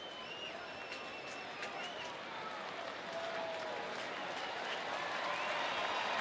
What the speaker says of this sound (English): Crowd now starting to let their support be known for Nick Tepish.